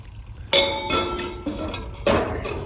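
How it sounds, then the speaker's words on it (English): A wine glass shaking and clinking, with sharp bright clangs at the start of the clip and again near the end, ringing tones between them, close and fairly loud with no talk. "Your glass shaking."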